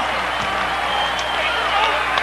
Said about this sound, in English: Hook'em Horn fans cheering